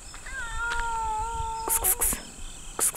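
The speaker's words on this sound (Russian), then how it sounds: "Там кот дикий мяукает." A stray cat meows outdoors at a village house, one long wavering meow up close, followed by sharp clicks and scraping noises nearby, with a voice briefly present.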